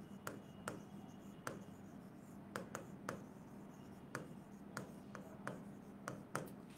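Chalk or marker taps and scratches on a board during a lesson on breathing, faint and close, with a dozen sharp strokes spread irregularly over a quiet room background.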